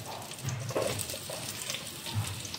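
Chopped onions dropped into a hot kadhai start to fry, a steady wet hiss and crackle with a brief louder splash as they land, close and fairly loud, with no talking.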